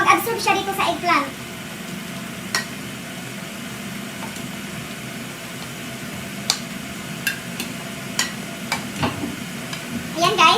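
Eggplant and tomato stirred in a pan, a low sizzle under scattered clicks and scrapes of a utensil, with a voice speaking at the start and end.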